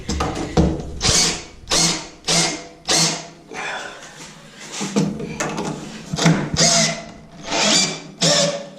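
Cordless screwdriver driving screws while a cabinet is mounted: repeated loud whirring bursts of about half a second each, evenly spaced with short pauses between them, close up and with no talking.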